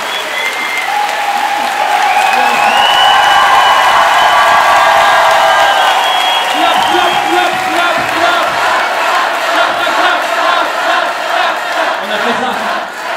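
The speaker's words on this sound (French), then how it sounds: "Et là, ils viennent d'applaudir" Loud, sustained audience applause at a comedy show in Andrézy, filling the whole stretch with steady clapping and some cheering and whoops.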